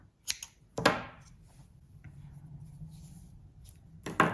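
Scissors snip crochet yarn to fasten off a sweater hem: a few sharp, close cuts, one early, one just after, and another near the end, with quiet rustling between.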